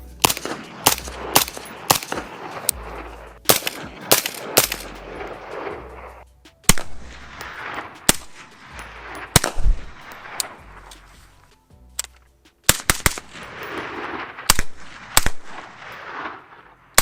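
Rifle fitted with a Deadair Sandman suppressor fires into dirt outdoors, sharp cracks spaced irregularly, some in quick pairs and clusters, each followed by a short fading rumble.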